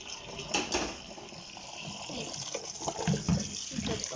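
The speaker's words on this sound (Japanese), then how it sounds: "もう、茹でこぼしちゃおうかなと思います。" Boiling water being poured off boiled curly dock leaves, a steady splashing, gurgling rush of liquid into a sink, fairly close, with a couple of small clanks near the start.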